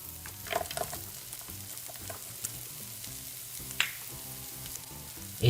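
Chopped beans stir-frying in a pan for chicken pasta, a low continuous sizzle broken by a few scraping stirs and clinks, heard without speech.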